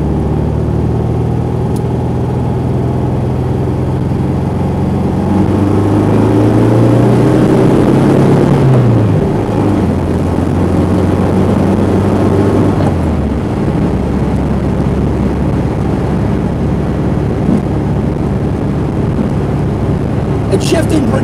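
A 1968 VW Karmann Ghia engine pulls hard in second gear, a loud, close, steady drone whose pitch climbs and then drops at a shift, with a rumbling roar continuing afterward.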